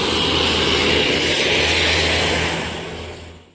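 A Hino-engined coach with a Laksana SR2 XHD Prime body pulls away, its engine a loud, steady broadband roar with a low rumble that fades slightly toward the end.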